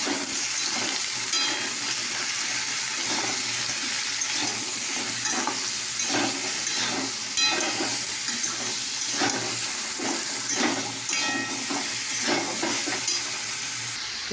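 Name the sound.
stirring frying food with turmeric and salt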